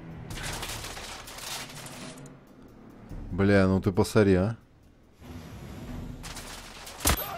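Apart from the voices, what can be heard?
silenced gunfire in a shootout, from the video game The Order: 1886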